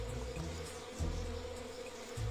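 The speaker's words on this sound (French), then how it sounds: "On peut aussi se faire agresser par les abeilles parce qu'il y a un nid d'abeilles ici quelque part." Insects buzz steadily near a bee nest in a video game, a soft low drone that swells and dips over about two seconds with no voices.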